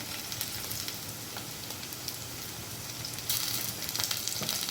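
Radish greens frying with turmeric and green chillies in a pan, a steady dense sizzle throughout that grows louder and crackles more sharply partway through, as if stirred.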